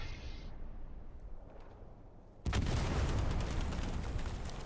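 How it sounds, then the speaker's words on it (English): Battlefield explosions in the Hell Let Loose video game during a competitive match with armor moving in: quiet rumble, then a sudden loud blast that rolls into a sustained, dense roar of gunfire and booms, with no talking. "We've got explosions going off everywhere"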